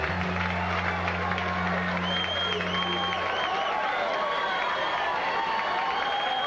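Boxing crowd in Marshall roaring and applauding as George Foreman heads into the ring for his bout with Tony Fulilangi, a dense sustained wash of cheers and clapping with a low steady hum beneath and whistles rising over it.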